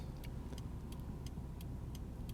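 At a red light in Norwich, Connecticut, a low steady traffic rumble rolls on as cars pass from left to right, with a regular ticking, likely a turn signal, clicking over it.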